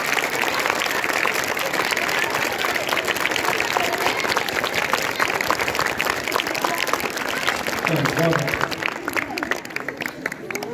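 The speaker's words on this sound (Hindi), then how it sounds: "जोरदार तालियां" Steady applause from an audience at a school theater workshop performance, a dense continuous clapping that runs for about nine seconds before thinning out, with a few voices briefly audible near the end.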